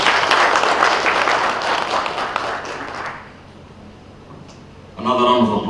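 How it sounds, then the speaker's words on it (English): An audience at a high-level stakeholder investment forum in Kitui applauds the CEO, a dense burst of clapping that tapers off after about three seconds before a voice starts speaking. "Another round of applause, please, for the CEO."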